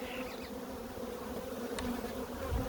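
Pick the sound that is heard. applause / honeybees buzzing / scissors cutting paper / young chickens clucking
honeybees buzzing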